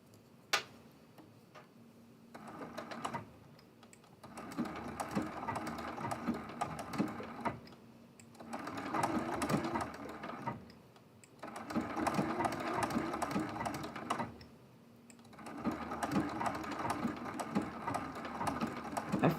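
Home sewing machine stitching a quilt block, running in several bursts of rapid even mechanical ticking of a few seconds each, separated by short quiet pauses, fairly soft and close with no talk.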